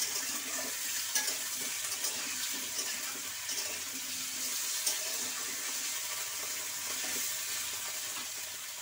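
Raw pumpkin pieces sauté with spices in a pan, giving a steady, fairly quiet hiss of frying with faint scrapes of stirring throughout.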